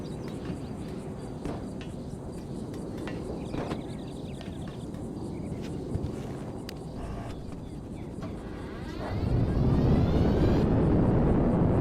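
Airplanes taking off in GTA 5, a steady engine roar with scattered clicks and game effects that swells into a louder, broadband rush near the end, with no talking.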